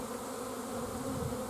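Honey bees buzz in a continuous, close, moderately loud drone while a nucleus colony is installed into a hive, with no voices over it.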